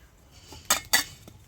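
A tin bowl is handled while being greased with oil, giving two quick metallic clinks close together and a fainter tap afterward, all close by and without talk.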